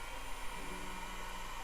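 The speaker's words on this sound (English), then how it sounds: "I found a tool, my old heat gun, which is going to be better than a hairdryer." A heat gun on its lowest setting blows a steady, even airflow hiss close by, continuous and unbroken with no talk over it.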